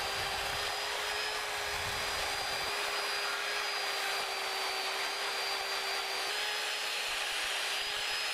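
A chainsaw cutting raw wood stock for carving drones steadily and loudly at a constant pitch through the whole stretch, with no pauses or speech.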